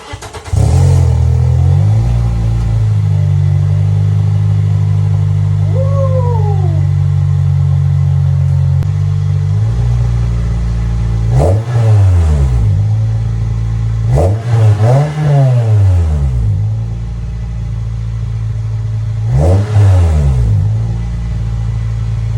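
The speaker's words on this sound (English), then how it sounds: "official cold start with the new RS exhaust." A 2006 Toyota Corolla XRS with an RS-type exhaust cold-starts, then settles into a loud, steady droning idle broken by three sharp revs that rise and fall, close up, with no talking.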